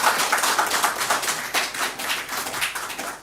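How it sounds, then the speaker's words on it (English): Steady applause from an audience at a Ghanaian political address, a dense, continuous patter of many hands clapping close and fairly loud, with no talk over it. "They deserve a round of applause."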